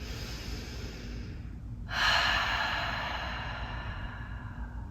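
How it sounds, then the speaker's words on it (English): Deep breathing through the nose during a yoga session for sciatica and piriformis relief, a long steady inhale swelling up after a quiet stretch and slowly easing off, close and soft over a low background hum. "Breathing nice and deep through the nose."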